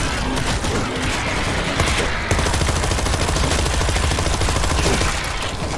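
Dense automatic gunfire rattles nonstop through a zombie shootout in World War Z, loud, close and continuous, with heavy thuds mixed into the sustained barrage.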